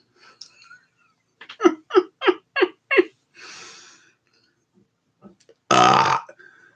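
A run of about five short, throaty belches in quick rhythm, followed by a longer, louder burp after a pause, close to the microphone with small breaths and vocal noises between.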